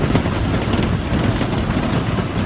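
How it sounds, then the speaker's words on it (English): Off-road shuttle vehicle jolting over rough ground near a waterfall, a steady loud rumble of engine and rattling body with constant low-frequency bumping throughout, no talking. "So we're on the shuttle now. It's bumpy as hell, going off road."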